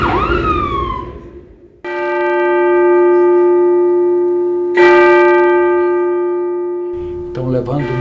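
A deep bell tolls twice, each stroke ringing out long and steady with a rich sustained hum. A brief voice-like sound comes just before the first stroke.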